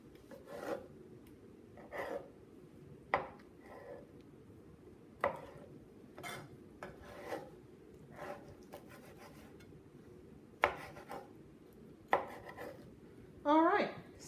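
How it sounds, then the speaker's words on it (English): A knife chops shrimp into tiny pieces on a cutting board, giving quiet, irregular sharp chops and scraping rasps spaced a second or two apart, close by. "So I cut it up into tiny pieces, and then I just put them in the bowl."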